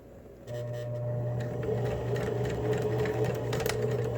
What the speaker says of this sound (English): Then I will reinforce it with a little double stitching just as I'm turning that corner.